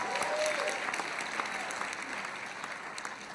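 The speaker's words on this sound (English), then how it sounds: "Let's give the company a big round of applause there." An audience at a business briefing claps steadily at moderate distance, a dense, even applause that stays level throughout.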